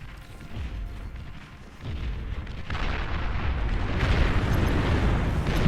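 Dense, continuous rumbling explosions from a large real-time strategy battle in the game Beyond All Reason, heavy artillery booms overlapping into a loud roar that builds toward the end.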